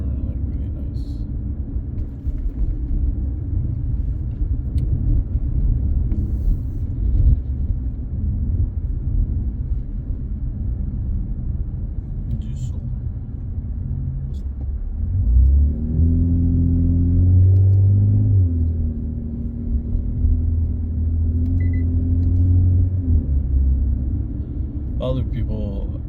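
Steady low road rumble inside a moving car on Boulevard des Prairies in Laval, continuous throughout, with engine tone rising after the midpoint as the car speeds up; a voice talks over it.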